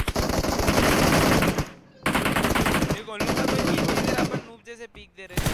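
Loud sustained automatic gunfire crossfire in a PUBG four-versus-four team deathmatch, rapid bursts chattering almost continuously with a brief gap, then breaking into scattered shots near the end.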